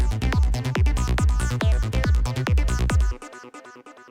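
Psytrance synth arpeggio patch from a Sylenth1 bank, a fast run of bright plucked notes over a pulsing low bass for about three seconds, then stopping abruptly with a short echoing tail.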